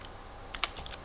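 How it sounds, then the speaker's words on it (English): Typing on a computer keyboard while setting up a new Windows 11 PC: a few quiet, close key clicks in a short cluster over low background hiss, no talk. "you hold down Shift and press F10 and type"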